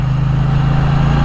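2024 Triumph Bonneville T120 motorcycle engine droning at a steady low pitch while riding, loud and close, with no voices.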